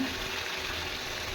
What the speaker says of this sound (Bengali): দিয়ে এইবারে পানি দিয়ে দেবো।